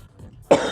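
A single harsh cough bursts out from someone with a sore throat, close and loud, following a quiet moment, with a second rougher push of the throat near the end.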